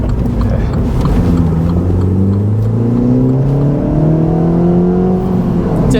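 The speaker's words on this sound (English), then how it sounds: "That is what a backbox delete sounds like on a Mini Cooper S." A 2021 F56 Mini Cooper S with its exhaust backbox deleted revs loudly up close, the engine tone sweeping upward in rising pulls over a constant rumble.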